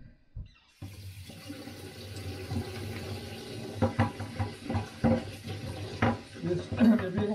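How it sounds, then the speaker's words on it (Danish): Water runs from a kitchen or bathroom tap into a sink during handwashing, a continuous splashing stream with irregular clatters and hand movements in the water, fairly close. "Så skal vi så lige vaske hænder."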